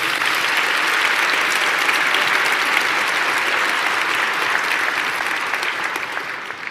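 Sustained applause from a large audience at the New York City State of the City address, dense and steady clapping that fills the space before gradually tapering off at the end.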